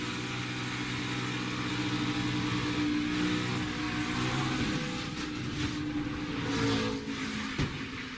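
A NASCAR stock car engine at Charlotte roars close and loud under full throttle, a sustained droning rise in pitch with wind and cabin rumble, easing briefly near the end.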